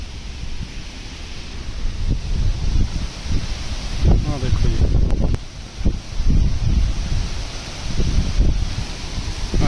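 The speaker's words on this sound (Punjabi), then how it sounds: "ਹਵਾ ਇਕਣਾ ਚੱਲਦੀ ਪੂਰੀ ਤੇਜ਼" Strong gusting wind blows through trees on a farm as stormy weather builds before rain, with broadband rushing and buffeting that swells and eases in waves, loud and close with wind noise on the microphone.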